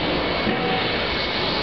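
Steady roaring jet drone of an airplane passing overhead near a seaside sanatorium park, loud and continuous with no voices.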